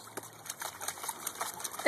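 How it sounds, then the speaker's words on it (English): A Vizsla puppy splashes in water at a dog park, quick scattered splashes and trickles, fairly faint and close. "Rosso playing in the water."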